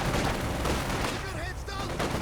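Strafing-run gunfire in Company of Heroes 2, a dense, continuous roar of rapid shots and battle noise, loud and close, with a faint voice beneath the clamour.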